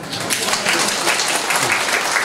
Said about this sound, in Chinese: 啊，好啊，拍手